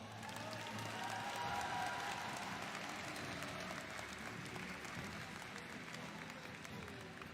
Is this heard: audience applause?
yes